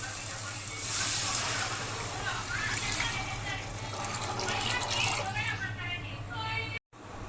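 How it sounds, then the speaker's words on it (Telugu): Two glasses of water pour steadily into a cooking pot for pudina rice, a continuous splashing fill that runs loud and close for several seconds over a low kitchen hum. "రెండు గ్లాసుల వాటర్ పోస్తున్నా చూడండి"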